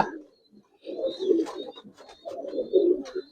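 Close Giribaz pigeons give two bouts of soft, burbling coos separated by a short pause, with faint high chirps mixed in and no talk.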